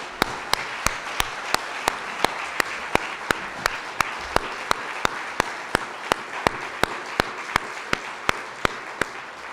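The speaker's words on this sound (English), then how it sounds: "Why don't we honor her in absentia with some applause" An audience at a commemorative event claps in a steady, evenly spaced rhythm of single sharp claps, moderately loud and without voices.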